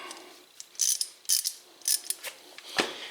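Ratchet working on brake caliper bolts on an MK4 Golf, with several short bursts of rapid clicking separated by pauses and a sharp metallic clunk near the end, close and clear with no talking.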